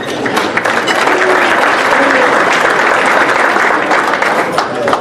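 Sustained, loud applause fills a banquet hall as attendees of a college basketball writers' award dinner clap for the season's honorees, steady and dense throughout with faint voices beneath.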